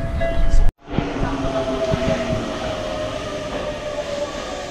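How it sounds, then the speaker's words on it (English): A small local train near Kamata Station in Tokyo rolls along with a steady rumble and faint wheel clicks after a brief cut, moderately loud and close, with a high electrical whine. "Small town, small train."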